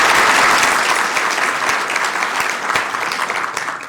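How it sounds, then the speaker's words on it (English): A big round of applause at a Sacramento City Council meeting, a loud, dense clapping roar that gradually tapers off toward the end. "Big round of applause for you."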